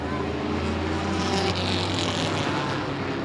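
Late model race cars at speed on a 5/8 mile oval during Oktoberfest race weekend, a continuous loud engine drone with rising and falling whine as cars pass, steady throughout.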